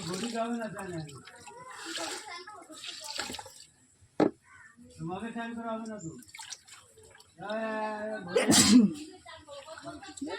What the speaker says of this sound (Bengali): বৃষ্টির জল গায়ে লাগলে হাঁচি হাঁচি